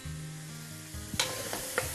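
Onion softening in a hot pan for a meat and vegetable stew, a steady close sizzle broken by a few quick scraping stirs.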